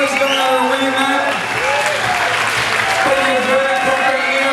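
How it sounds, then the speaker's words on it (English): A crowd applauds a new light middleweight champion at a boxing event, steady clapping and cheering with a voice speaking over it throughout. "give him a round of applause"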